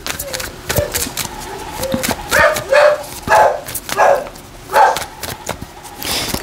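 A dog barks repeatedly in short bursts, fairly close, with a few quieter yips between, over faint background noise.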